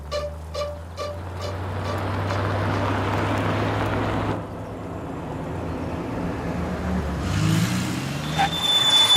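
A car engine runs as the vehicle drives along, a steady low hum and road rumble that shifts in tone midway and swells again toward the end.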